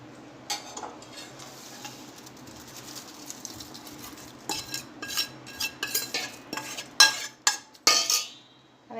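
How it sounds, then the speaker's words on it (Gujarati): A spoon tosses hot tempering through roasted poha for papad poha chivda: quiet at first, then a burst of loud, close metallic scrapes and rattling strokes near the end, with no talking. "હવે આ બધું સરસ મિક્સ કરી લઈશું।"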